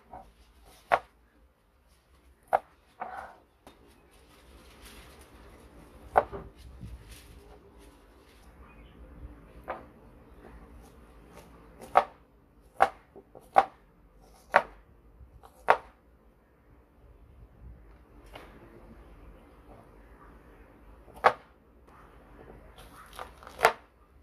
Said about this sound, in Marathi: आता त्याचे अशा प्रकारे बारीक तुकडे करूया।